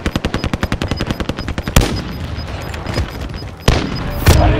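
Rapid bursts of automatic gunfire from many players in Call of Duty: Modern Warfare Warzone, a fast rhythmic machine-gun rattle followed by louder, denser overlapping shots and sharp blasts, with no talk.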